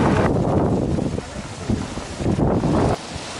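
Warm wind gusting at a forest fire in Nepal, a steady broadband rush buffeting the microphone with surging gusts throughout and a brief lull near the end.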